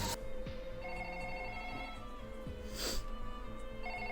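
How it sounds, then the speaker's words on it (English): A telephone rings with repeated electronic tones in a steady pattern. It sits under a dense film soundtrack with other sounds layered over it, and no one speaks. "Who's the phone call from?"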